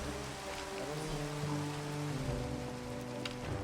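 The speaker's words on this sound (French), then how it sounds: "il pleut tout le temps." Steady rain falls in a roleplay video game, a continuous broadband wash of drops on surfaces heard alone with no talking.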